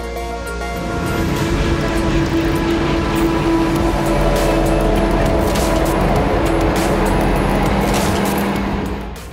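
A John Deere 9900 forage harvester with a 12-cylinder, 24.2-litre Liebherr engine roars steadily with a low droning hum and whine, loud and continuous throughout with no talk.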